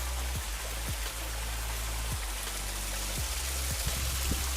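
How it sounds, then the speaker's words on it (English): A small waterfall trickles beside a narrowing tramway track on the Waitawheta tram line, a steady close rush of water with a low rumble beneath and a few soft thumps. "Cute little waterfall."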